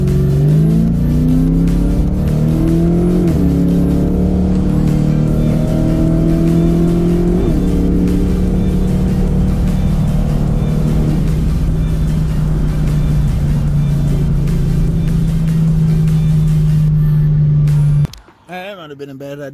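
A Ford Foxbody Mustang accelerates hard from a stop on a street, the engine note climbing loudly through several gear changes into a sustained roar before cutting off abruptly, with voices faintly underneath.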